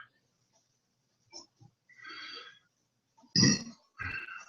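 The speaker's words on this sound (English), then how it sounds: "Sorry, belching like a true man, huh?" Belching after drinking beer: two loud, deep burps close together near the end, following a few quieter scattered vocal sounds.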